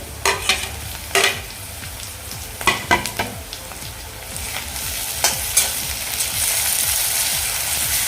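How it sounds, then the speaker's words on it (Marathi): Onion and tomato sautéing in a pan over a high flame for an eggplant and potato curry: a steady sizzle under repeated close scraping stirs of a spatula, with the frying hiss swelling toward the end and no talking. "आणि तो आपलं थोडंसं सॉफ्ट होईपर्यंत आपण हे परतून घ्यायचं आहे"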